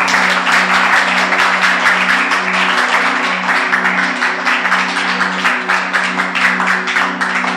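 Young audience applauding at a gathering in Cocody, dense rhythmic clapping that holds steady throughout, with a sustained low hum running underneath.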